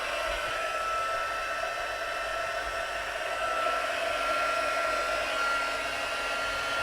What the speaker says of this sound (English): and then I'm going to heat that with my heat gun.